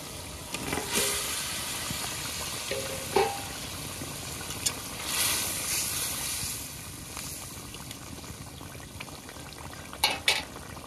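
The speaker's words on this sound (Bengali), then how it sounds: "ঝোলে জাল উঠে গেছে, এবার মাছগুলো দিয়ে দেবো।" Pieces of katla fish slipping into a pan of simmering curry gravy for kalia, with a steady bubbling sizzle and a few soft utensil clinks near the start and at the end.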